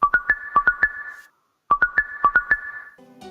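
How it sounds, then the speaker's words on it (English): A HUD icon notification effect from the Prodigy math video game plays twice: a quick burst of bright, bell-like electronic chimes repeated after a short silence, followed by a brief lower tone. "So this is just called SFX HUD icon notification."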